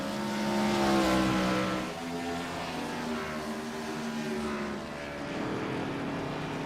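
Race cars battle on the Sonoma track with overlapping engine drones rising and falling, a moderately distant, sustained multi-car roar that swells and eases over several seconds.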